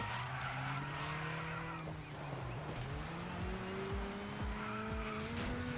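A race car drifting in Dirt 5, its engine droning while the tires squeal in long wavering pitched tones that bend up and down through the slide, steady and fairly loud throughout.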